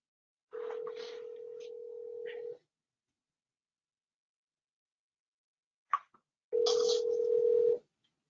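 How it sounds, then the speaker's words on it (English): A phone rings with two long electronic tones separated by a pause and a short click, clear and close against silence. "My phone is ringing, so I'll answer it"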